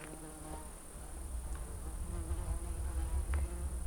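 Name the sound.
bees and flies swarming around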